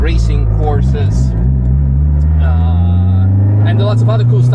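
Honda engine in a rare tuned car revving hard with VTEC engaging, a loud droning exhaust note that climbs steadily in pitch and stays close and continuous, with a voice briefly over it.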